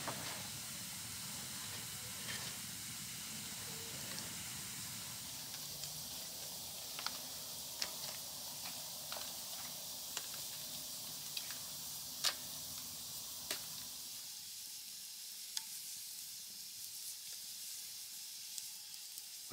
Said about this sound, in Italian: cercare di tenere alto il fuoco utilizzando questa legna di betulla che è completamente fradicia